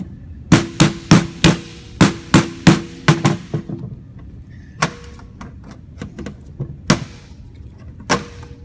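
A small screwdriver locks fuel injectors into place on a 2014-2019 Silverado, Sierra or Yukon engine, giving a rapid series of sharp metallic clicks and taps, then a few sparser knocks, loud and close.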